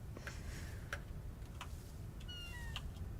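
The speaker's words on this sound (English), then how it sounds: "Cat noises. Who doesn't like cat noises?" A cat meows several times in short, separate calls over a low background hum, fairly close and clear with no talking.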